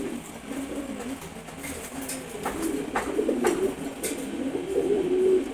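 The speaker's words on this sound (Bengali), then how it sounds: "এটা হাই ফ্লাইং রেসার কবুতর।" A pair of large high-flying racer pigeons of a foreign bloodline coo steadily at close range. The soft, rolling calls grow slightly louder toward the end, with no talking.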